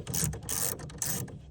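Small screws being driven down until they bottom out, giving a close, dry ratcheting and clicking in short bursts with brief pauses between them.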